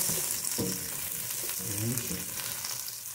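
Crushed garlic sizzles steadily in a frying pan with a broadband hiss, punctuated by a few stirring scrapes, close and fairly loud; a faint voice briefly murmurs beneath.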